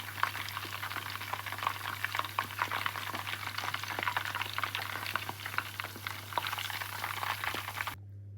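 Chicken lollipops deep frying in hot oil, a dense continuous bubbling crackle with a steady low hum beneath, cutting off abruptly at the end.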